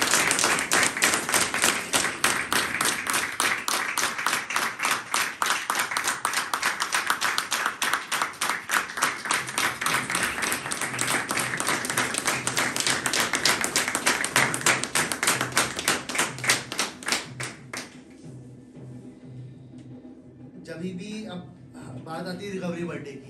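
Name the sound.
applause for a sobriety recovery birthday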